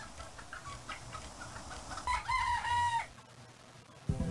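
Chicken-like clucking and crowing calls from the video game Sound Voyager, a short burst of fowl sounds over a steady electronic backdrop, fairly close and alone without talk.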